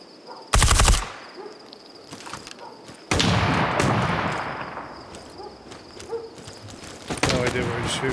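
Gunfire in the tactical shooter Ground Branch: a sharp, loud close shot, scattered distant pops, then a long echoing burst of automatic fire and more shots near the end, with a player speaking between the shots.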